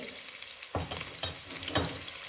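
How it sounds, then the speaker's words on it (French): Garlic, ginger and onions frying in hot oil in a pan give a steady, close sizzle and crackle, with a few soft stirring scrapes breaking through. "Une fois que l'huile est chaude, je vais venir mettre l'ail, gingembre et la moitié des oignons."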